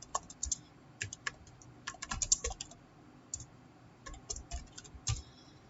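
Typing on a computer keyboard, scattered light key clicks in short irregular bursts, quiet and close, with no speech.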